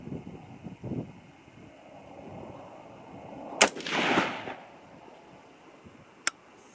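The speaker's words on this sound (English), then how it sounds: "I'm going to be shooting the left-hand target" Two sharp 6.5 Grendel rifle shots firing 90 grain TNT loads at an outdoor range, the first followed by a rolling echo and the second a single crisp crack, both loud and with no talk.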